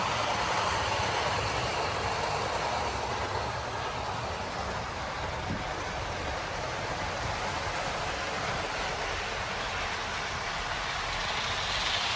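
Heljan OO-gauge Class 47 model diesel locomotive hauling Royal Mail TPO stock, a steady loud rumbling hum of the running model train continuing throughout without talk.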